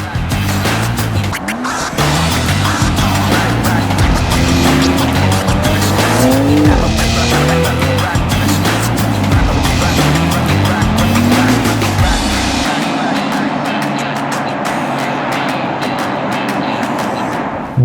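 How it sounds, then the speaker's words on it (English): A 2021 BMW X4M Competition launches under launch control, its engine roaring loud and close with rising gear pulls and tire noise, then easing off near the end; no talk. "X4M Competition launch control."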